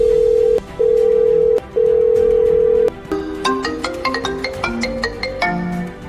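A telephone rings loud and close in an indoor shop setting, a steady electronic tone repeating in three long pulses before shifting into a quicker chiming ringtone melody.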